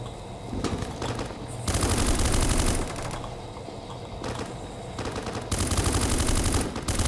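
Bursts of automatic gunfire from the Roblox shooter Black Hawk Rescue Mission 5, loud rapid volleys in two long stretches with shorter scattered shots between, no voices.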